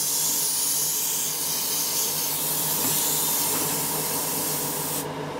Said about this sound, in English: Give it a good flush once again with water, just spray it, flush it out.